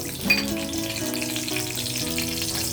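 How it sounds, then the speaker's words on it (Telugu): A spoonful of chana dal fries in a little oil in a kadai, with a steady, moderately loud sizzle that stays constant throughout, while a tonal melodic layer plays over it. "నేను కడాయి పెట్టి ఆయిల్ వేసాను ఒక ఒక స్పూను కొద్దిగా ఒక స్పూను పచ్చిశనగపప్పు వేస్తున్నాను"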